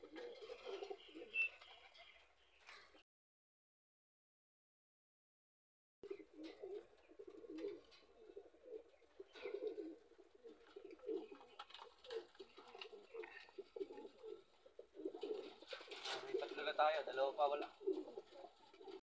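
Racing pigeons cooing at a loft during a derby race, repeated soft low coos and throaty murmurs close by, with scattered chirps and rustles after a short silent gap.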